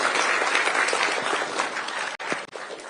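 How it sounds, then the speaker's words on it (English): A standing audience at a Kenyan presidential gathering in China claps for the President, thick sustained applause with a couple of brief dips near the end. "if you can all stand and just stretch and clap for His Excellency the President"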